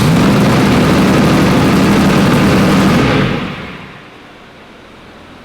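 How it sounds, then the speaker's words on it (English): Loud engine roaring steadily on a dyno for about three seconds, then cutting off and dropping to a low rumble as it winds down. "We're gonna fire it up again and see how she does on the chip."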